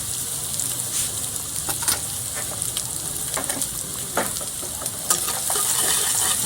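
Onions fry in oil over a wood-fired stove, with a dense, steady sizzle and scattered crackles and soft pops throughout, close and moderately loud with no speech.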